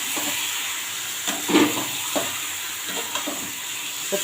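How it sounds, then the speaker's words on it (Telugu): Chicken pieces sizzling and frying in hot oil in a village-style curry pan, with a steady hiss and a few scraping stirs of a spoon, close and alone without talk. "బాగా అయితే వేగింది చికెన్ వేద్దాం ఇదిగోండి చికెన్ అయితే వేస్తున్నాను"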